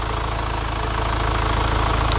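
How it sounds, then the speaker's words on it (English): A 2018 Hyundai Santa Fe engine idles steadily, a loud, close, rhythmic low mechanical rumble with a faint ticking pulse, running alone with no voices. "it's time to listen to the engine sound."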